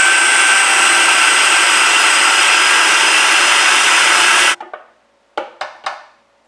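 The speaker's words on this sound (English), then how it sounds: "we blend all together" A blender whirs steadily and loudly while blending a peanut butter noodle sauce, then cuts off, leaving a few sharp clinks and knocks in the quiet.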